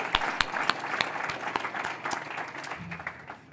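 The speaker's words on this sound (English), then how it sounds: "Let's give them all a round of applause again." Audience applause for the finalists at an evening awards ceremony, a steady dense wash of many hands clapping with a few sharper near claps standing out, continuing at an even level throughout.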